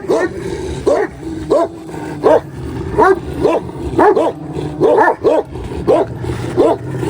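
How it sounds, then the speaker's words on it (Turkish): A dog barks repeatedly in a steady rhythm, loud and near, with occasional yips mixed in. "Bak oğlum ne kadar Beraz'a havlasa da"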